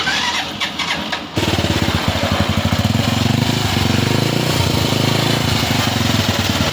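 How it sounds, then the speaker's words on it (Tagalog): A motorcycle engine sputters briefly, then settles into a loud, uneven, chugging idle that pulses roughly and unsteadily. "Grabe ang sama ng tunog ng makina."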